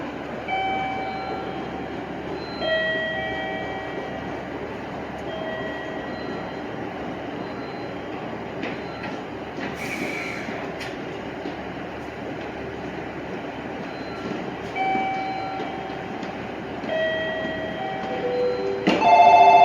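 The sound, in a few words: JR Chuo Line train at Tajimi station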